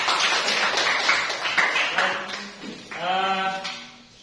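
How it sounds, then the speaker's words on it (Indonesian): Students in a classroom clap briefly at a teacher's prompt, a dense patter of hands in the first half, then voices take over with talk for the rest. "tepuk tangan dulu"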